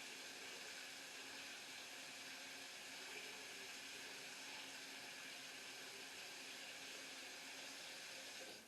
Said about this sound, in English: just run it under some hot water.